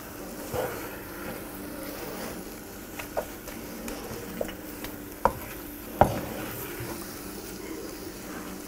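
Öksüz helvası is stirred in butter in a pan, giving soft scraping and occasional sharp taps of the spoon against the pan over a low, steady background, close but quiet.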